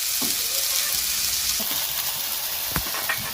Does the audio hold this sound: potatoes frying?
yes